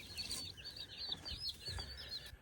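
Chicks peep in a brooder beneath a brooder plate, their high, rapid chirps overlapping in quick bursts with soft rustling below, fairly close but quiet.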